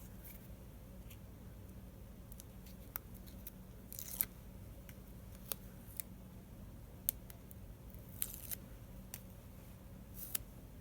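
Nonstick scissors snipping paper while making Christmas cards and postcards: faint, scattered crisp snips and ticks over a quiet room, with no voices.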